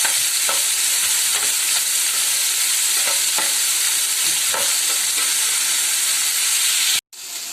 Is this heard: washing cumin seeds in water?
no